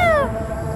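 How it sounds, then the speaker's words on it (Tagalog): A strange wild bird gives a single sharp, plaintive call that sounds like a cat's meow, a falling whine heard close and clear with faint background noise and no talk. "Parang boses niya parang ngiyaw"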